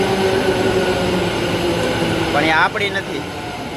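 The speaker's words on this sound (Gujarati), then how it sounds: "હવે આપણે હવે એક મેટ્રો આવી ગયો તો" An Ahmedabad metro train at a station gives a loud, steady rumble with a brief wheel squeal near the end, heard close by while a person speaks briefly over it.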